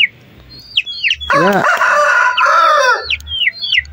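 A rooster kept in a coop crows once, loud and close, a long strained cock-a-doodle-doo with quieter chirps and clucks before and after.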